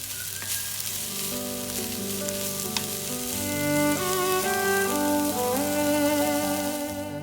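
Leek added to onions sizzles steadily in a hot pan, a continuous close frying crackle with no talking.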